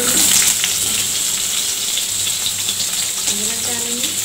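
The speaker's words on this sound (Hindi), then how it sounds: "देखिए हमारे ऑयल गर्म हो चुके हैं, अब इसमें हम अपने अनियन डालेंगे," Onions frying in hot oil in a pan, a steady bright sizzle and crackle running throughout at close range, with no talk.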